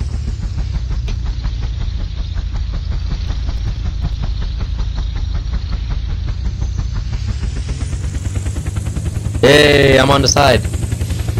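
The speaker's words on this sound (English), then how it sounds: "Seriously, a helicopter, of all things." A helicopter in the video game Unturned flies with a steady, loud rotor chop and engine drone throughout, while a player speaks briefly near the end.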